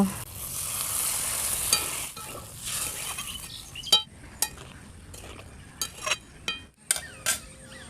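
Eel fish curry broth bubbles in a pan, giving a soft hissing simmer at first, followed by scattered metallic clinks and scrapes of a utensil against the pan.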